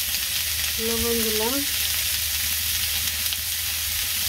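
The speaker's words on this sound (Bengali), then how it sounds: "একটু বেগুন দিয়ে দিলাম ভাজি দিয়েছি" Eggplant sizzles steadily in a pan, a constant close hiss throughout, while a voice speaks briefly over it.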